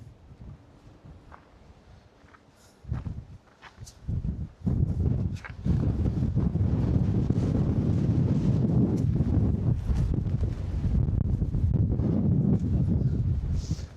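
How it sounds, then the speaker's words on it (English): Strong wind roars and buffets the microphone at the top of a radar tower. Quieter gusts and a few knocks come first, then a loud, steady rush takes over. "The wind is so strong today."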